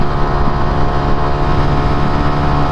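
Honda Pop 110 motorcycle cruising on a highway, a loud continuous engine drone mixed with heavy wind rush, steady with no breaks or voices.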